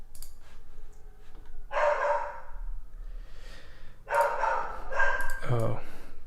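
A dog barks twice in a room, two loud bursts a couple of seconds apart, with faint background noise between them.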